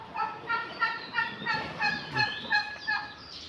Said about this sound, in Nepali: टर्कीलाई पनि एकै ठाउँ राखेको रहेछ यार